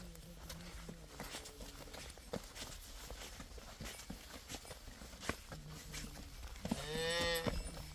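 A dairy cow on a farm moos several times, low and drawn out, with a louder, closer moo near the end and shuffling hoof steps in between.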